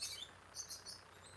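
Loud birds chirping outside, bright repeated high tweets and calls in bursts over faint background hiss, no voices.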